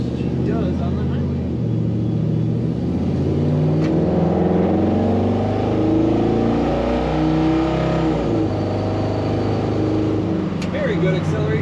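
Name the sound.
1967 Chevrolet C10 pickup truck accelerating on highway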